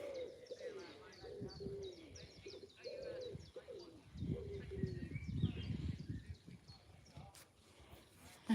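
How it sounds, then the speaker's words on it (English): A pigeon coos in a tree at Hickling Broad, repeated soft low calls in a steady rhythm heard at moderate distance, with other birds chirping faintly and people talking outdoors. "pigeon in the tree."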